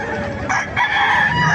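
A rooster crows loudly and close by in Bocaue, Bulacan, a single drawn-out call with hens clucking faintly underneath.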